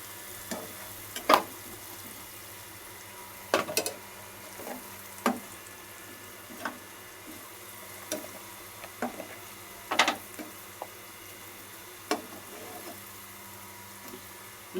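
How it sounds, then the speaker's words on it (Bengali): Onions frying and browning in a pan, a soft steady sizzle broken by scattered sharp crackles and pops, with faint voices in the background. "পেঁয়াজগুলো কালার দিই।"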